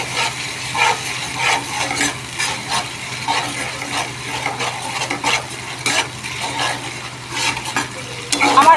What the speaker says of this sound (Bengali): সামান্য হলুদ মশলাটা ভালো করে কষে নেবো